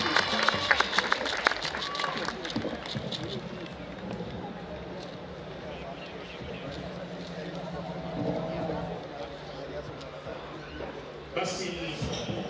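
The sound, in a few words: crowd applauding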